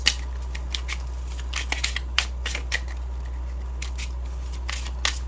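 Tarot cards shuffled by hand nearby, giving a run of soft, irregular riffling snaps and flicks over a steady low hum, with no talking.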